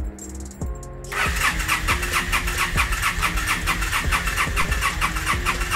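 A Yamaha V-Star 1300 motorcycle on a test run cranks with a starter whine, catches within about a second, then settles into a loud, steady, pulsing idle close by with no talking.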